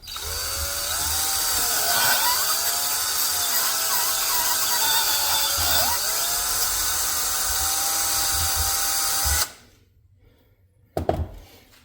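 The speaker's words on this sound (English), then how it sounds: "You gotta love drilling in brass." A loud, high whining drill with a 5/32 bit grinds steadily through a brass carburetor plug for about nine seconds, its pitch dipping under load, then stops with a brief clatter afterward.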